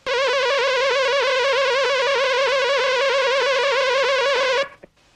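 Synthesizer note modulated by a noise-wave LFO, its pitch jittering irregularly and rapidly around a steady centre, sustained loudly on its own before stopping abruptly.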